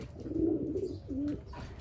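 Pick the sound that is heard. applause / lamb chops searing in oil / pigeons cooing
pigeons cooing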